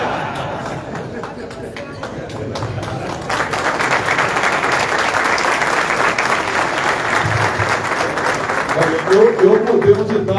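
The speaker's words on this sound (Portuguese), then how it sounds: "Eu pensei que fosse para mim as palmas." Audience applause fills a political meeting hall, a steady dense wash of clapping that swells after a few seconds and holds at a fairly loud level, with crowd murmur and a voice briefly rising near the end.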